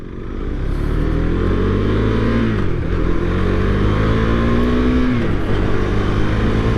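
A 2023 KTM 390 Duke single-cylinder motorcycle engine drones loudly and close while riding, its pitch sweeping up and dipping twice as the throttle is worked.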